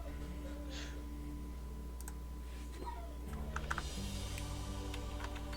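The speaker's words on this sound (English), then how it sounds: "Okay, I'm typing." Quiet clicks of typing on a computer keyboard tap in irregular bursts, faint beneath a steady electrical hum.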